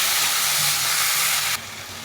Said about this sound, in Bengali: মশলার সঙ্গে সবজিটা এমন করে কষিয়ে নিতে হবে